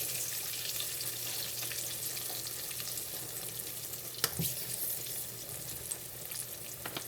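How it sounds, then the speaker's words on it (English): Steady crackling sizzle of pork chops frying in hot grease, a continuous close hiss with an occasional louder pop. "You just hit the grease or the frying of the grease slows down."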